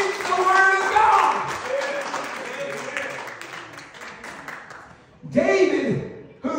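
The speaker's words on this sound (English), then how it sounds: "Can you clap your hands and praise the Lord" A church congregation claps hands during a sermon, a loud burst that fades over a few seconds, then voices and cheering rise again near the end.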